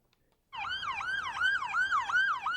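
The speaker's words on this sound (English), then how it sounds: "Sirens blared as utility crews blocked off roads and sealed up the leak." A wailing emergency siren cycles up and down steadily after a brief silence, loud and fairly near, with no one speaking.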